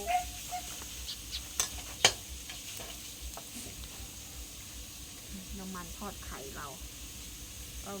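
Pork being stir-fried in a little oil in a pan, a faint sizzle with light utensil clicks and scraping, under a speaking voice.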